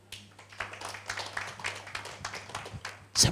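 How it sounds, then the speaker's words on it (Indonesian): A church congregation at a Sunday worship service claps in a loose, uneven patter of many hands, moderate in level and steady across the room, over a low background hum, ending with a sharper, louder burst. "berikan tepuk tangan dulu"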